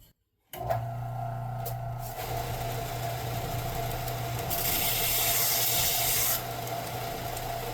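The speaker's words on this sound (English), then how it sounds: "now I'm gonna use the belt sander so I can make it a little flatter" A belt sander grinds a metal shaft for an FPV helicopter flat, a loud continuous abrasive whir with a steady motor hum that starts abruptly after a brief silence and grows harsher midway as the part is pressed to the belt.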